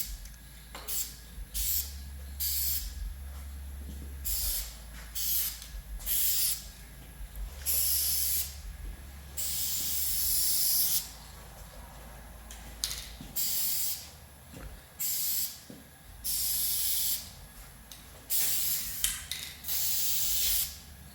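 Repeated hissing bursts of a spray paint can painting an old Dodge, short and longer pulses with brief pauses between them, close and fairly loud over a low background rumble.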